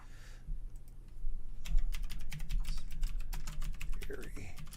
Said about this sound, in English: God, my keyboard's so loud. These gaming keyboards.